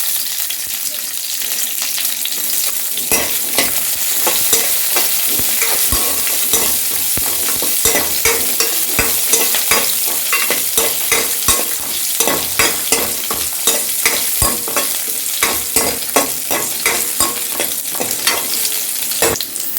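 Onion and spices sizzle in hot oil for amla rasam while a spoon stirs steadily, loud and close, with constant frying hiss and frequent small clinks.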